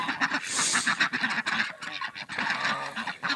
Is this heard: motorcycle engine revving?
no